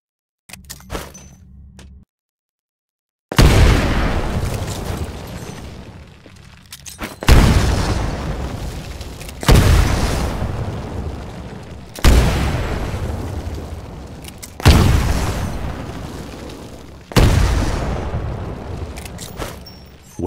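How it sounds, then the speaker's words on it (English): Grenades exploding in a Titanfall training course: five loud, close booms come at regular intervals after a brief lull, each with a long rumbling decay, and there is no talking. "Throw a grenade into each of the windows."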